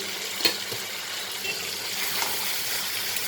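Spice paste with tomato and a little sugar sizzles and is stirred in a hot pan, about to be joined by parboiled elephant foot yam for a prawn curry; steady close frying hiss with a few soft scraping clicks.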